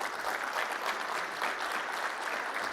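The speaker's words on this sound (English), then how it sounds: "Please give them a big round of applause." Steady applause from a keynote audience at a tech conference, filling the room evenly and continuously for the whole stretch, with no speech over it.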